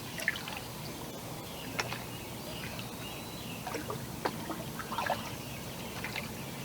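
A canoe paddle sculls through the water in small wiggling strokes, leaving faint scattered drips, gurgles and soft splashes over a quiet outdoor background.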